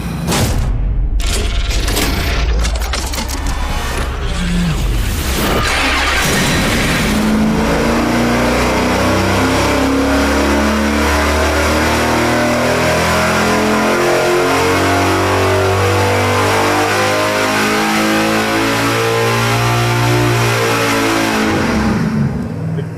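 A 5.7 Hemi engine on a dyno, fired up and revved hard, a loud continuous roar climbing steadily in pitch for about twenty seconds before cutting off, with no talk over it.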